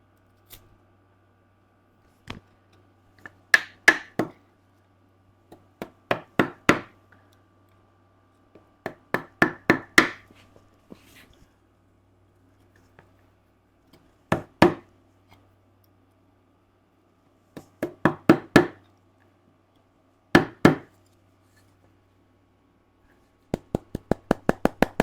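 A chisel chops wood while a hand-tool woodworking bench is being built, making sharp, close mallet-driven knocks in bursts of two to five quick blows separated by short silent pauses.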